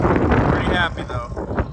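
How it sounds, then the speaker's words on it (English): Gusty wind on a ranch buffets the microphone with a loud, continuous rumble that eases slightly toward the end. "It is windy today."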